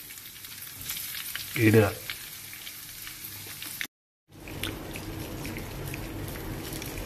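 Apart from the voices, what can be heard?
marinated sardines frying in a pan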